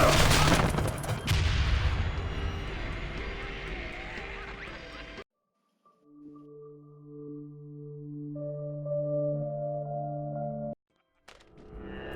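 Gunfire from the video game Splinter Cell Conviction erupts loudly in a dense burst of shots for about five seconds, then cuts to quiet sustained tones and a final brief noise.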